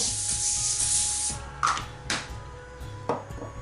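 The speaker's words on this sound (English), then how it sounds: "you can actually just give a spray on with the olive oil" A spray can of olive oil hisses in a long burst onto aluminum foil, followed by a few shorter sprays and light rustling against the crinkly foil, close by.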